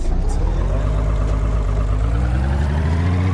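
A car engine in a video game runs with a steady, loud low drone and a rough harmonic hum, idling close by without pause for a few seconds.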